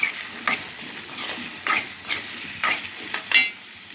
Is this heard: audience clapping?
no